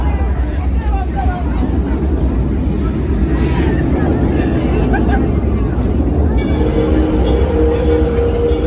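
A steam locomotive train ride on the Texas Railroad at Six Flags Over Texas, with a loud continuous rumble and rolling clatter of the cars, while people talk over it.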